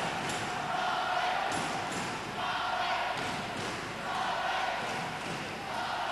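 A basketball crowd in a 1993 Derby game cheers and roars in waves, fairly distant and broad, with a commentator's voice over it and occasional ball bounces.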